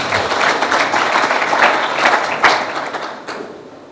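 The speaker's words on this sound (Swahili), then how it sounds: "Makofi mengi tafadhali" Audience applause at a Simba Sports Club event, dense clapping from a crowd, strong at first and gradually fading toward the end.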